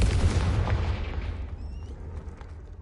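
A Confringo fire-blast spell bursts in Hogwarts Legacy as a heavy, rumbling boom that rolls loud at first and slowly fades, with faint higher whistling tones trailing near the end.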